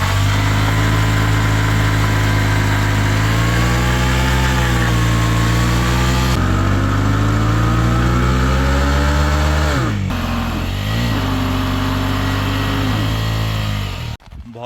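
A Husqvarna Svartpilen 250 motorcycle revs hard while spinning and wearing down its rear tyre, a loud, close, continuous engine drone whose pitch rises and sags, dipping briefly near the ten-second mark and cutting off at the end.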